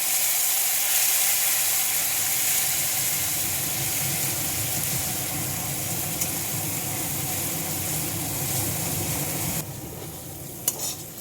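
Spice paste frying for a katla fish curry sizzles steadily after a splash of water, a loud continuous hiss with stirring scrapes that thins out near the end.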